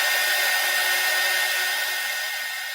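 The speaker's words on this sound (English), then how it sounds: "Heat gun." A heat gun blows steadily on black candle wax, a loud, close, even rushing hiss that stays constant for a few seconds and fades slightly at the end, with no voices.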